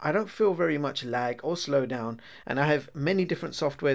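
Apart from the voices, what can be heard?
No distinct noise like a dog, phone or traffic.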